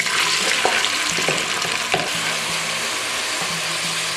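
Chopped onion sizzles in olive oil in a pot for a Greek imam aubergine dish: a dense, steady frying hiss with a few soft clicks from stirring, close and without speech.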